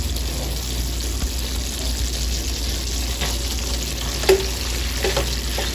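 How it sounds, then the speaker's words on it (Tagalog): Glutinous rice is tipped into a mixture in a pot and worked in, soft scraping and rustling stirring over a constant low background hum, with one brief clink. "Ilalagay na natin yung ating malagkit."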